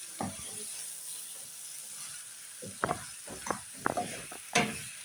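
Peppers and winter vegetables frying in a pan, a faint steady sizzle broken by a few scraping stirs and clacks of a utensil toward the end.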